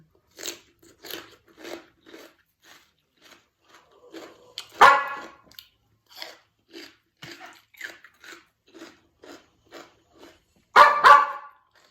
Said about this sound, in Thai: อย่าเห่าสิข้างบ้านเขาด่า